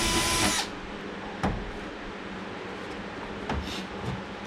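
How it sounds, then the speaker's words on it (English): A power drill bores holes in the fender of a Honda S2000 while a louver is fitted: a loud, brief whir at the start, then a quieter steady hum with a few sharp knocks. "I'm just going to kind of work my way around here, drill some holes,"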